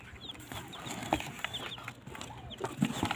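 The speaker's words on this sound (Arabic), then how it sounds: "فانا بدل ما اجيب ابيض جبت كتاكيت اهي بلدي" Baladi chicks of a local breed chirp and peep in small, scattered calls, fairly close over a soft background hum, with no talking.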